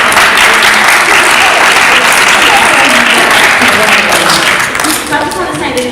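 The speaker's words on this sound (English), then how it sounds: "Another round of applause to welcome these excellent players." A loud, dense burst of audience applause at a school poetry performance, sustained and close throughout, thinning slightly near the end as voices start to come through beneath it.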